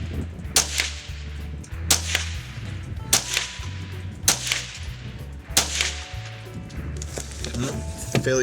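Sharp .22 rifle shots from a Ruger 10/22 firing CCI Stinger rounds through an Archangel AA922 Gen 2 magazine, about seven evenly spaced cracks roughly a second apart, close and loud outdoors.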